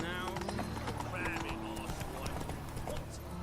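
Roach, a horse in The Witcher 3 video game, trots along in rhythmic clip-clop hoofbeats with a brief whinny, close and clear under a man's spoken lines.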